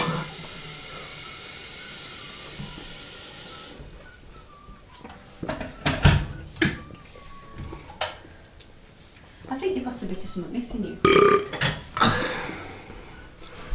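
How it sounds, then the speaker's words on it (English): A person burps after sipping a fizzy non-Sprite soda from Mexico, producing several short guttural bursts spread through the stretch, close to the mic, with hissy noise and scattered clicks around them. "for some reason it tastes like Vietnamese food when I burp back up"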